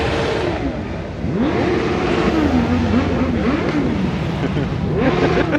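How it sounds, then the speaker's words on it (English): Car doing a burnout at a night car meet, engine revving and rising and falling in pitch for several seconds over a steady crowd-and-traffic din, with people talking nearby. "Oh boy, we're burning out."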